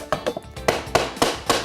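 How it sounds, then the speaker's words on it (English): A regular hammer strikes a tapping bar set against the edge of a tongue-and-groove floorboard, giving six or so sharp, close wooden knocks at a steady, unhurried rhythm with brief quiet gaps between blows. "you have to tap it along the sides until it lays down flat"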